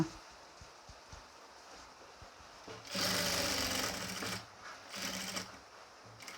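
A sewing machine runs in two bursts while stitching along the neckline of a nighty, its rapid mechanical whirr close and loud over a quieter room background.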